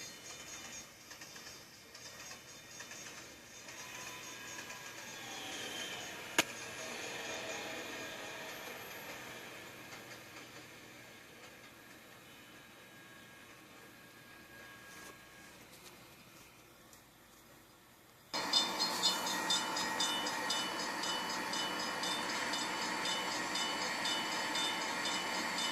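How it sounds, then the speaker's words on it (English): The Arrow III train engine in a video game powers down: a steady hissing, rumbling mechanical drone slowly fades and quiets, then a louder, brighter hiss cuts in abruptly near the end. "this is what it sounds like when you power it down"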